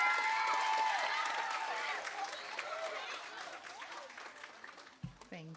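Sustained audience applause at a fifth grade moving-up ceremony at Merrick Academy, dense clapping that starts full and gradually thins and fades, with a few scattered claps and voices near the end.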